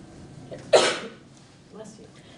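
One sharp, loud sneeze or cough-like burst bursts out at close range during a quiet meeting, then fades, with faint murmuring speech around it.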